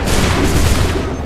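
Musket volley gunfire in Assassin's Creed 3, a loud, dense booming roar of many shots fired together, filling the whole short moment with heavy rumbling blast.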